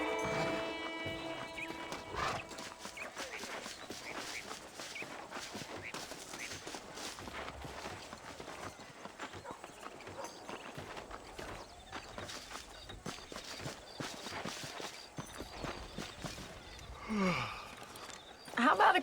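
A horse clip-clops along at a steady walk in Red Dead Redemption, close and even, under talk, with a whinny and a burst of gunfire nearby.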